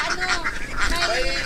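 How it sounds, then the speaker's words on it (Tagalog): Farm ducks of American breeds, mostly white, honk and quack in a busy flock close by, a steady chorus of overlapping calls with a voice speaking faintly underneath. "So, enjoy yung mga pato ni sir."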